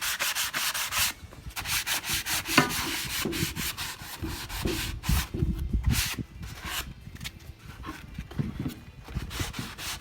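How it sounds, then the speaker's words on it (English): Hand sanding of dried wood putty on a wooden birdhouse, a steady, close, rhythmic rasping of paper rubbing back and forth over the wood, continuing without pause. "just lightly sand it to get rid of all the evidence of there being air holes there"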